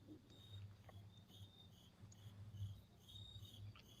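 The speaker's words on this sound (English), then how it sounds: "There are crickets right behind me." Crickets chirp faintly in the distance in a quiet outdoor spot at night, with thin repeated trills over a soft low background hum and no voices.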